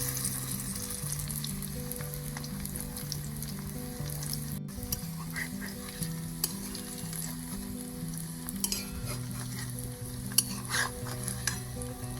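Cauliflower frying in hot oil for a chili dish gives a continuous close sizzle and crackle with occasional stirring clicks, under steady background music.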